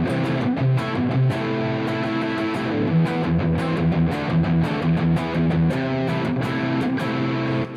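Guitar chords strummed through effects, a dense, sustained and processed tone with repeated rhythmic strums, loud and close throughout with no talking.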